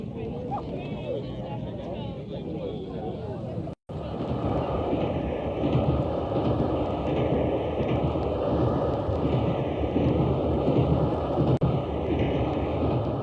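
A train at a busy railway station on a winter morning, its steady rumble and rolling clatter dominant throughout, briefly cut at one point, with a crowd's babble underneath.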